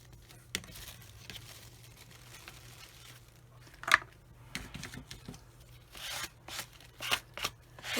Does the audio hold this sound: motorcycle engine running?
no